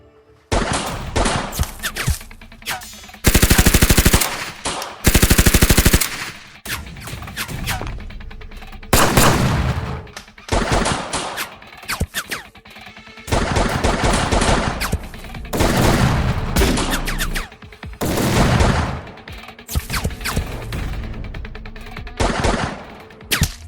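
Heavy gunfire from a battle scene rings out loud and close, with long sustained machine-gun bursts alternating with rapid volleys and single shots, filling nearly the whole stretch with only brief gaps.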